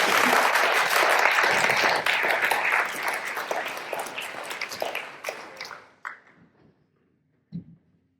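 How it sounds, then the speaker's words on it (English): Audience applause at the launch of updated drinking-water quality guidelines, a full burst of clapping that thins out and fades over several seconds, ending in a few scattered claps and near silence. "Let's give them a big round of applause, everybody"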